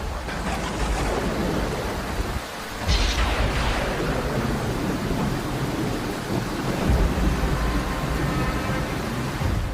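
A severe thunderstorm with lightning and gusting wind: heavy rain pours steadily while thunder booms and rolls loudly, one sharp crack followed by a long rumbling tail.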